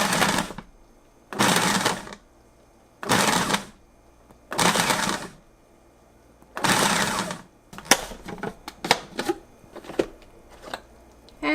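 A Braun FP3020 12-cup food processor set to speed 11 pulses quartered tomatoes in five loud, whirring bursts about a second long with short gaps. Quicker clattering taps and shorter bursts follow.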